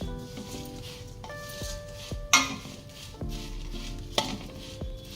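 Flattened rice (poha) fried and stirred in ghee in a pan for halwa, with steady scraping and clinking of a utensil against the pan, a couple of sharper knocks, and a soft sizzle underneath.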